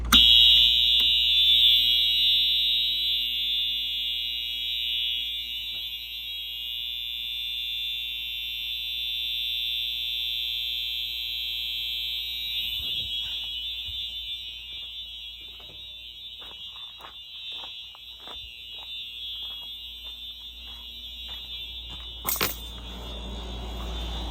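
A loud, steady 1990s FCI fire alarm system horn blares continuously with a piercing high tone, accompanied by a low hum and a brief click near the end.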